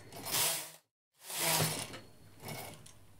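A knitting machine carriage is pushed across its bed in long mechanical whooshing passes with a ratcheting rattle. Two full rows run back to back with a brief silent gap between them, followed by a shorter, softer pass.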